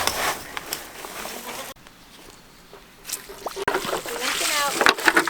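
Water sloshes and splashes as livestock water containers are washed out on a farm, with intermittent splashing and pouring bursts and people talking over it.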